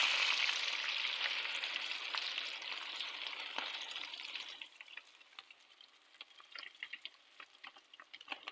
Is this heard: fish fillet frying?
yes